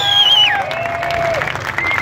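A rodeo crowd applauds and cheers in a sustained wash of clapping and voices. A whistle-like tone glides downward over the first second.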